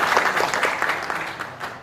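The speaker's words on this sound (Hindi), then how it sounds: "मुझे लगता है इस बात के लिए मिली काउंसिल के जिम्मेदारान के लिए एक बार जोरदार तालियां बजानी चाहिए।" A crowd claps in appreciation during a political speech about the Waqf board, a brisk, dense burst of hand claps close by and fairly loud, holding steady before tapering slightly at the end.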